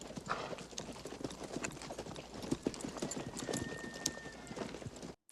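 Several horses clip-clop on a town street in the 1992 film Unforgiven, dense, overlapping hoofbeats close by and fairly loud for several seconds.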